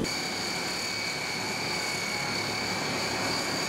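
Steady drone of a Hawker Siddeley HS 748 turboprop taxiing in the P3Dv4 flight simulator, with constant propeller and engine noise carrying a sustained high whine, level and unbroken throughout.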